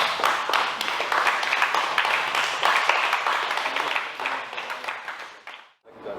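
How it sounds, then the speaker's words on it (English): Audience at a young fighter's Muay Thai bout gives a steady round of applause, dense clapping that fades out near the end before a brief pause. "So give him a round of applause, please."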